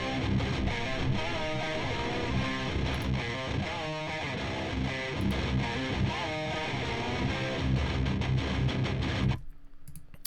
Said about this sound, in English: So then with the rhythm guitar, it actually sounds like this.